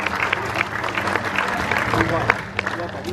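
An audience at a tiger show at Dreamworld on the Gold Coast, Australia, claps steadily, a dense wash of applause that holds for a few seconds.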